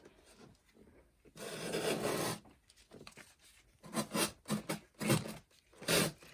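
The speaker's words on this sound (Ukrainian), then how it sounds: "Тепер края я просто зачищаю такою наждачкою." Edges of a decorative cloud cutout sanded by hand with coarse P80 sandpaper, giving close rasping strokes: one long rub, then a run of short rhythmic scrapes with quiet gaps between.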